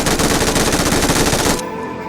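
Loud, close automatic gunfire from the BGMI mobile battle-royale game fires as one rapid, continuous burst that knocks down an enemy, then cuts off sharply into a quieter tail.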